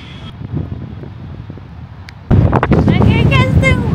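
Strong wind buffeting a microphone outdoors in Baku, Azerbaijan in mid-March, a steady low rumble under a voice talking over it.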